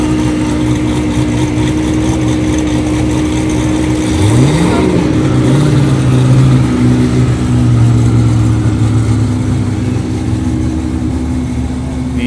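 Gordon Murray Automotive supercars pass at the Goodwood Festival of Speed, a loud, steady engine drone with a rising rev as a car accelerates through, sustained over a constant outdoor crowd murmur.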